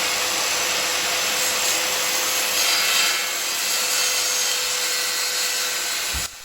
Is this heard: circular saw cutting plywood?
yes